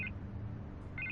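A telephone ringing in the Batman Telltale game, two short faint electronic trills at the start and end of a quiet, low-humming moment with no talk.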